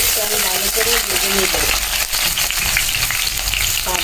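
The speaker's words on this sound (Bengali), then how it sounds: "আমি পেঁয়াজটা ভালো করে ভেজে নিয়েছি" Onion frying in oil in a pan, a dense, loud sizzle with stirring scrapes and clinks, a low hum and some muffled voice sounds underneath.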